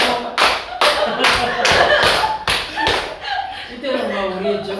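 An audience claps together in a series of loud, sharp bursts, about seven strong rounds in quick succession, followed by a voice speaking over the tail as the applause fades.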